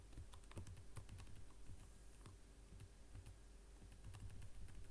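Rapid clicking of a computer keyboard as code is typed, a quiet, close, uneven patter of key presses with no talking.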